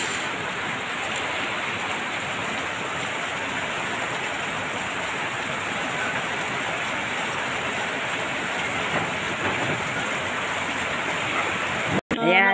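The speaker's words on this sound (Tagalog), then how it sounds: "Lakas ng ulan." Heavy rain pours down in a dense, steady roar that fills the whole stretch, loud and unbroken, with only a brief clunk near the end.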